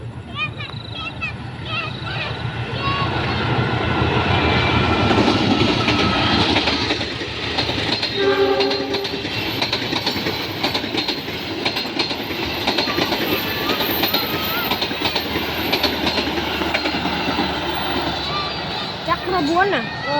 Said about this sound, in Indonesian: Ada kereta di depan.